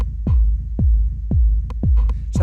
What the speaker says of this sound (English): in hybrid reverb, we can actually set it to go rhythmically with the beat.